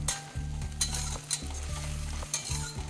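Spices and soybean sautéing in oil, a loud close sizzle broken by regular scraping stirs of a spatula in the pan, with no voices.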